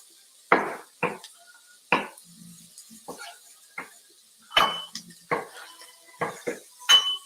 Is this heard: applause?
no